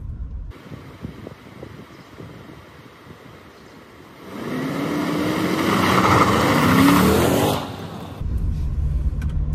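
A 2021 Toyota Sequoia TRD Pro revs up and accelerates hard on a dirt trail. A rough low idle and wind buffeting build into a loud, rising engine roar with gravel spray that peaks, then cuts back to a steady rumble.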